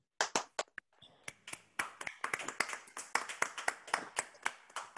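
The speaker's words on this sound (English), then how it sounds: "Let's give the Lord a big clap offering." A church congregation claps during a Sunday service: a few scattered, distinct claps at first, then a quicker, irregular run of sharp hand claps, fairly quiet and without talk.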